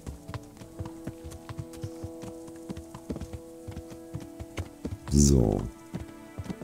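Horse hooves galloping in the medieval game Kingdom Come: Deliverance, a steady rhythmic run of soft thuds under a brief spoken word, ending in a louder burst near the end.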